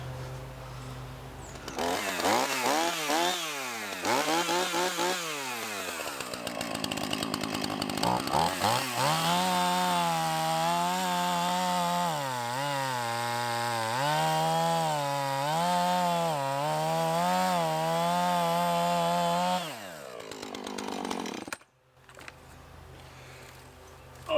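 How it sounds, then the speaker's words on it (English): A chainsaw revs up, bogs and whines as it bites through a thick tree stump, loud and close, its pitch dipping under load before cutting off near the end. "I'm gonna get my chainsaw in here and cut this right now"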